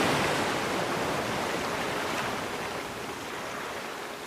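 Sea waves washing onto a shore as broad, steady rushing surf noise, loud at first and easing slightly softer toward the end, with no voices.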